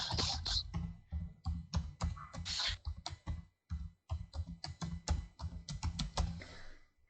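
Fingers type on a computer keyboard in quick, uneven bursts of sharp plastic key clicks, with a few brief pauses between runs of keystrokes, close and fairly quiet, with no talk.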